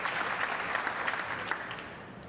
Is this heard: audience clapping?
yes